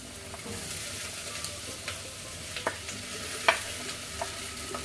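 Chopped onion goes into a hot pan with ginger and garlic for a squid roast, giving a soft steady sizzle broken by a few scraping stirs, heard close and fairly quiet.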